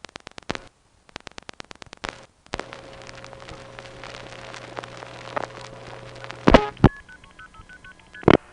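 Touch-tone telephone number dialed on a landline, a quick series of crisp DTMF beeps in bursts, followed by a steady dial-tone-like hum and a few clicks, with rising tones near the end.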